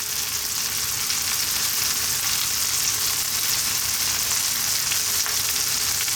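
Mushrooms and oregano fry in a hot pan, giving a steady, dense sizzle that runs unbroken and close by, with no talking over it.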